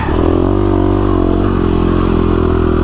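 A KTM 350SX-F dirt bike, a Supercross machine set up for desert racing, roars through sandy ground. The engine drones loud and close with a steady throttle and some clatter, and no talking is heard.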